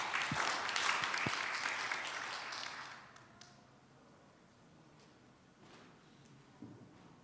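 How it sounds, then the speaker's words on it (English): At a youth forum session on inclusive cities, an audience gives brief applause that lasts about three seconds and quickly dies away, followed by quiet room noise with a few scattered knocks and shuffles. "Please give them a round of applause."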